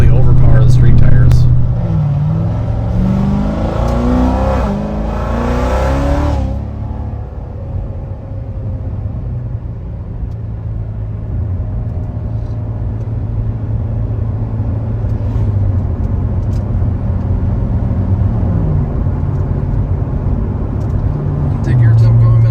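A 750 rwhp Chevrolet Corvette C7 Z06 with a BTR Stage 2 LT4 camshaft and DSX flex auxiliary pump, its engine revving loudly at first, then settling into a choppy, lumpy idle that rumbles steadily up close.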